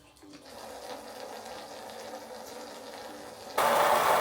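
Mains hose water running into the fresh-water tank of a VW Crafter camper van, a steady broadband rush that holds level for several seconds, then jumps sharply louder and brighter near the end.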